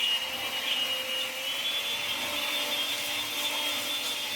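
A Makita cordless vacuum cleaner runs steadily with a high, whining motor tone and a constant airy rush, fairly close and without pause.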